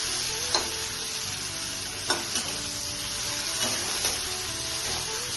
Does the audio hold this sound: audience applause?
no